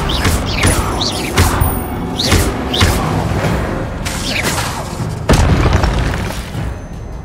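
The Incendio fire spell in the video game Hogwarts Legacy bursts out as a series of loud, booming whooshes and crackling impacts, several in quick succession over a busy, continuous game soundscape.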